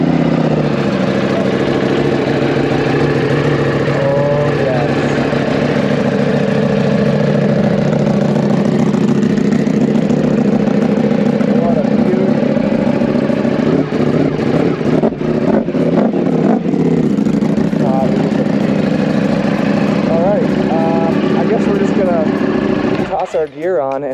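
A Ducati Panigale V2 Bayliss motorcycle engine cold starts and holds a loud, steady, throaty idle close by for over twenty seconds, with brief blips of revving toward the end.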